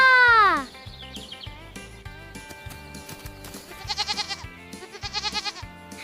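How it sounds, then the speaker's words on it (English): A goat on a farm gives a few bleats: a loud wavering cry at the start, then two shorter quavering bleats later, over a bouncy children's tune with no talking. "What a silly little goat."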